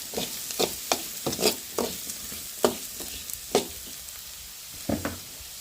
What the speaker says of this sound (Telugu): ధనియాల పొడి ఉండేది కదండి ఇంకా అది కూడా వేసుకుందాం కొంచెం వేసి బాగా తిప్పుకుందాం